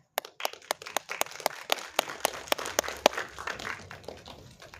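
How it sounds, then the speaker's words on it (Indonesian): Sparse applause at a film premiere gala as a cast member is called up: scattered, crisp individual claps and a few sharp cracks, fairly faint and thinning toward the end. "kita beri tepuk tangan untuk Anissa Kaila"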